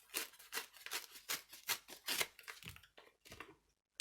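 A paper envelope being cut and torn open at the top: a close, dry series of rapid rasping rips in quick bursts that slow and soften toward the end.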